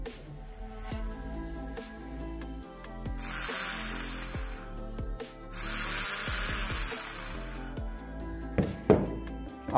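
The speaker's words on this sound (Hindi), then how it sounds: "ड्रिल चक को आपको लगा के दिखाता हूँ एक बार।" A rewound self-starter motor with a drill chuck attached whirs up twice in long bursts, a close, loud high-pitched spin that winds down between runs, with scattered clicks and knocks around it.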